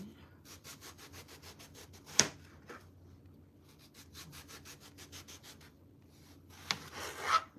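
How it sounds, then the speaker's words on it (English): A knife slicing eggplant lengthwise on a cutting board gives quiet, rhythmic back-and-forth strokes in two runs, with a sharp knock between them and a louder scrape near the end. "We're going to cut these in slices."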